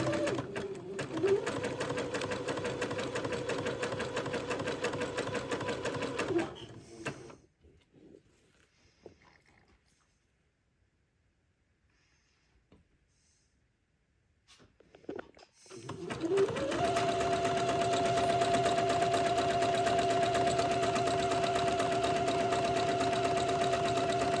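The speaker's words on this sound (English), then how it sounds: "I'm just simply zigzagging it on, and then I'll come back and trim a little bit of the batiste away." A sewing machine zigzag-stitches lace onto batiste fabric in two bursts of steady mechanical whirring, separated by a quiet pause of several seconds.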